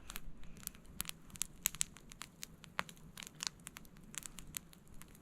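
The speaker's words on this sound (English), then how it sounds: "I hear the dog chewing on a stick, fire crackling behind me." At a campsite a dog chews on a stick and a campfire crackles behind, giving sharp irregular snaps and crunchy crinkling clicks over a low steady hum, close and fairly quiet, with no talking.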